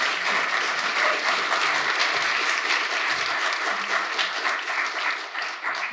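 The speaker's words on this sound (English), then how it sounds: "applause, please" Audience applause after a tech conference talk, steady, dense clapping from a sizeable crowd, even in loudness from start to finish and heard with no speech on top.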